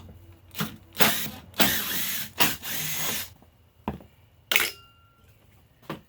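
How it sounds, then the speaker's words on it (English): A hand ratchet loosens the headlight bolts on a Suzuki Kizashi, with close bursts of rapid clicking and rattling in short runs, separated by quieter pauses and a few isolated knocks. "So to make this easier, I'm going to take off these 3 bolts up here."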